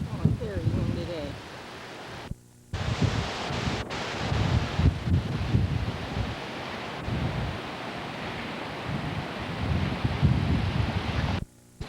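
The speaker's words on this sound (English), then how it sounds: "Oh, a very windy day." Strong wind buffets an outdoor microphone on a blustery day near Kailua, Hawaii, a constant rough roar with gusty swells and two brief dropouts, while people talk faintly underneath.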